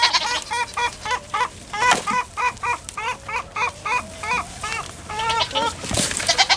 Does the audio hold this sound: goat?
yes